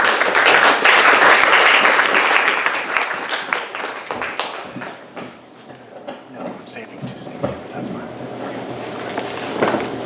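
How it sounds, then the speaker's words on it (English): An audience bursts into a loud round of applause for Dr. Detroit, Mike Whitty, at a talk on cannabis. The clapping starts dense, then thins into scattered claps and murmurs while people settle. "a big round of applause for Dr."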